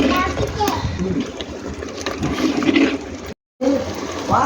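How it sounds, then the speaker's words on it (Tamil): Hot water pours into a clay pot of mutton curry cooking at a village home, a steady splashing, rushing gush that runs close and fairly loud for about three seconds, breaks off briefly, then resumes, with voices murmuring around it. "சுடு தண்ணி ஊற்ற போகிறோம்."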